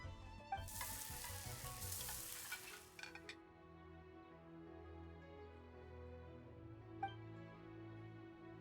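Food fries in a pan in the Genshin Impact game, a loud burst of sizzling for about three seconds that cuts off, leaving a soft musical background with a faint clink.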